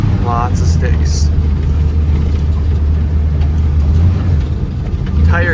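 A skid steer's engine drones loudly and steadily as the machine rolls off-road through sticks near a pond, with someone talking over the constant low rumble.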